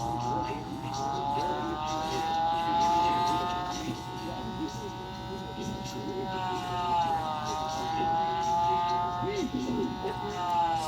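A racing car engine revs in a 1/6 scale miniature arcade driving game, a wavering buzzy electronic whine that rises and falls continuously throughout, loud and steady.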